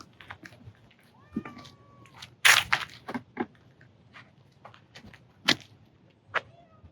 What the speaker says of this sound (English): police found a cat on the scene